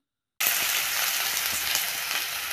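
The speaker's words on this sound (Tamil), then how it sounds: "மூணு பெரிய வெங்காயம் சின்ன சின்னதாக கட் பண்ணி வச்சுருக்கேன் அதை இப்போ ஆட் பண்ணிடலாம்" Chopped large onions dropped into hot oil with popped mustard seeds, a loud, close, steady sizzle starting abruptly after a brief silence and continuing without pause.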